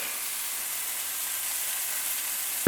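Broccoli frying in a pan, a steady close sizzle and hiss that holds evenly from start to finish with nothing else over it.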